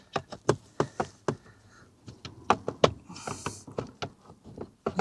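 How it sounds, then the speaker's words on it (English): Close, irregular clicks and sharp plastic knocks as a car door panel is pressed and snapped back into place. "put the door back on"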